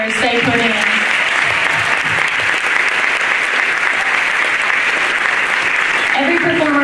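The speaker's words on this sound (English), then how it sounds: "So I think these kids all deserve another round of applause for the countless hours they put in." Sustained audience applause for student performers at a fine arts season curtain call, loud, dense and steady throughout, with a voice talking faintly over it at the start and end.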